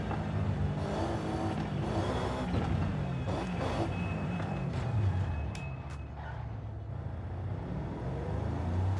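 Car drifting in the Forza Horizon 5 racing game, with a steady engine drone and tire noise that dips briefly midway, joined by thin high squeals near the end.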